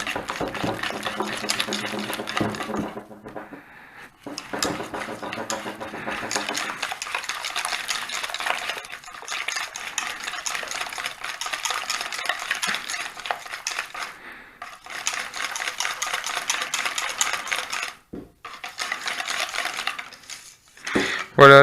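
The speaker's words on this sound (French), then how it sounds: "avec le fouet à main, je vais essayer d'obtenir quelque chose" A hand whisk beats chocolate, cream and butter together in a bowl for truffles, making a fast, continuous scraping clatter that pauses now and then, with a person talking over parts of it.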